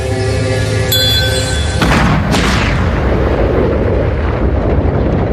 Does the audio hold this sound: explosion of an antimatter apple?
yes